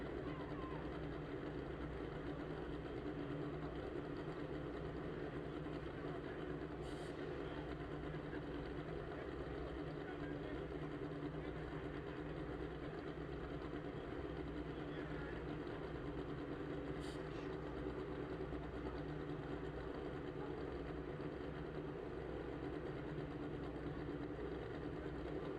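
A drag racing motorcycle engine idles at the Fuel Tech World Finals drag event, a continuous, even low rumble that holds steady for the whole stretch with faint outdoor background noise.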